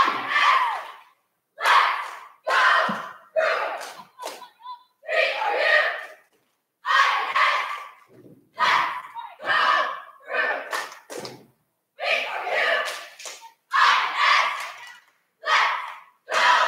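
A varsity cheer squad shouts a cheer routine in unison: short, loud, rhythmic bursts of group voices separated by brief pauses, carrying on steadily throughout.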